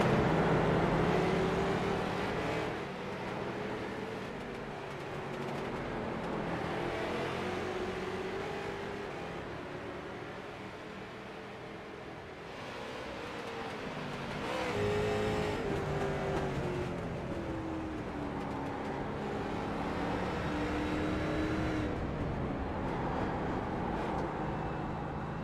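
Street stock race cars roar past on the Barber circuit, a continuous loud engine drone with rising and falling pitch as several cars accelerate and sweep by, the sound swelling and fading in waves over about twenty-five seconds.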